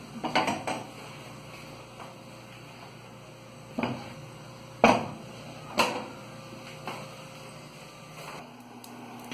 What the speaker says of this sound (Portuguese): Enquanto ela, a panela aquece, eu vou quebrar a rapadura.